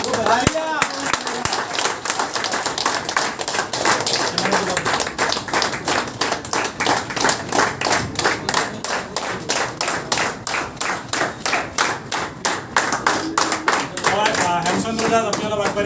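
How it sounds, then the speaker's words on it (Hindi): An audience at an office inauguration in Guwahati claps in a steady, rhythmic unison beat that holds for about sixteen seconds, loud and close, with a voice speaking over the clapping in places. "ताली बजती रहनी चाहिए"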